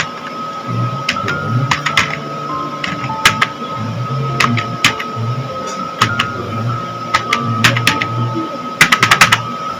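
Computer keyboard typing, bursts of sharp clicking keystrokes in irregular runs over a low steady hum, close and clear, with a quick flurry of keys near the end.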